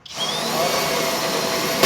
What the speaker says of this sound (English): you have to learn how to hang on to the drill, bracing it with your body and your hands, and just simply pull the trigger